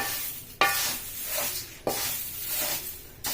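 Moringa leaves frying in a pan, a steady sizzle broken by scraping stirs roughly every second and a half, close and fairly loud.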